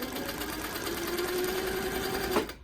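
A sewing machine runs steadily while free-motion quilting a wildflower nine-patch quilt, with a continuous close whirring hum that stops abruptly near the end.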